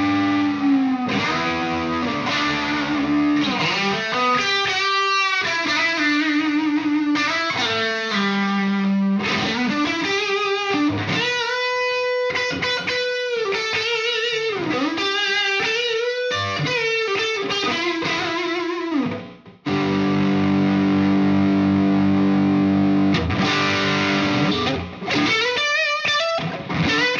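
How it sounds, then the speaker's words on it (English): Guitar played through a 1980s ART effects processor set to an odd room reverb blended with chorus and exciter, giving continuous, loud, shimmering chords and notes with a brief dip near the end, no talking. "that's that ART like weird room reverb that it's like half room, half chorus, all exciter"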